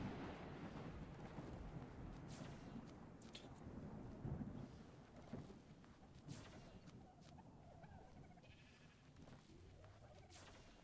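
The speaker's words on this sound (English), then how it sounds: "It's raining." Rain in the video game Ark falling as a steady hiss with low thunder rolling underneath and a few sharp crackles scattered through, fairly faint overall.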